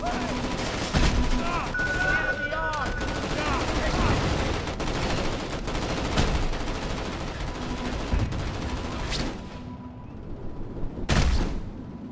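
Gunfire in the Xbox 360 game Crackdown 2, with repeated shots and bursts rattling over a dense, steady backdrop of game noise, ending in a brief lull before a final loud blast.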